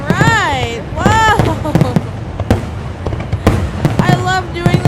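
A Fourth of July fireworks show with repeated bursts and crackling pops in quick succession, partly under excited shouting and whistles from onlookers.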